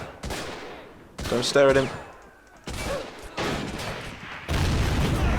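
Gunfire in the strategy video game Army Men of War, with bursts of rifle and machine-gun shots and sharp cracks repeating through the battle, while a voice speaks briefly over the shooting.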